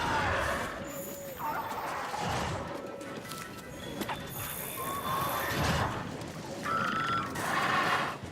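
Sleep frogs croaking in the Monster Hunter World video game, a few short croaking calls rising over a busy, continuous in-game ambience with scattered clanks and thuds.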